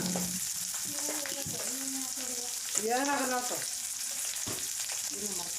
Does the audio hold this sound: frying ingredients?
yes